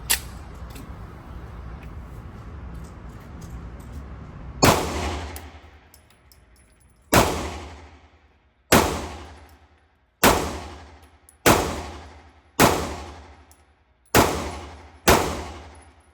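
A Colt Defender 1911 compact 9mm pistol fires cheap ammunition outdoors: eight loud, sharp shots spaced about a second or two apart, each ringing out with a long decaying echo, after a stretch of low background noise.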